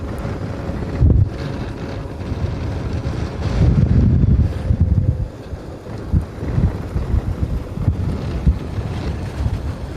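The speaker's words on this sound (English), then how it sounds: "It's a crosswind for sure." Strong wind buffets the microphone during a men's elite road bike race in a crosswind, a continuous low roar with louder gusts surging and fading, with no talking.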